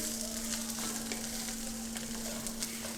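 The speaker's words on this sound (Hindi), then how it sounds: "गोभी को हम 2 मिनट के लिए ऑयल में फ्राई करेंगे" Cabbage frying in two tablespoons of hot oil, a steady close sizzle with faint crackles and occasional stirring clicks, no voices over it.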